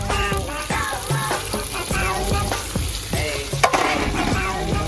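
Tomatoes frying in a pan for chicken curry, loud close sizzling broken by repeated stirring scrapes in an uneven rhythm.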